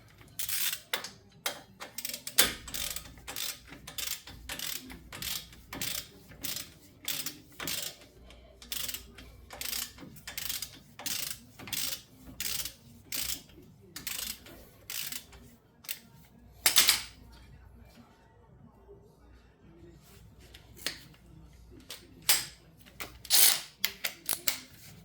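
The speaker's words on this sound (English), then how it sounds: "got my handy dandy 1/2-inch drive." A Milwaukee 1/2-inch drive ratchet clicks through a long series of quick, sharp pawl ratchets in rapid bursts, close and fairly loud against a quiet background, with no talking.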